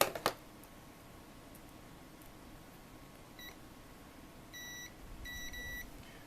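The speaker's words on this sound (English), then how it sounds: "So if I were to test this, we come up with our beep beep cont test." A multimeter on continuity test sounds several short electronic beeps against a reverse-polarity DC adapter cable with soldered wires. The paired tones arrive near the end after a quiet stretch, crisp and close.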